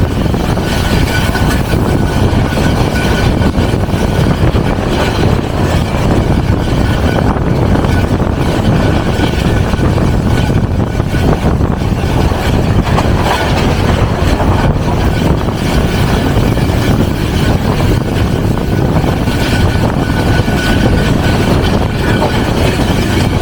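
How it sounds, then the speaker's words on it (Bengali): Kurigram Express intercity train running through Tangail railway station at about 50 km/h, a loud constant rumbling roar of wheels and carriages heard close up throughout, with no talking. "Tangail railway station through pass 50 kilometre গতিতে আন্তনগর কুড়িগ্রাম এক্সপ্রেস"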